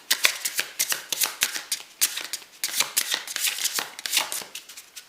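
Tarot cards being shuffled by hand, a quick run of crisp riffling and slapping flutters in uneven bursts, close and fairly loud, with no talking.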